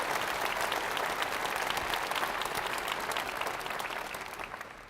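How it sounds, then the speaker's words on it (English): Sustained applause from an audience at a political policy forum, a dense steady wash of many hands clapping that fades slightly toward the end. "Can we give them a big round of applause"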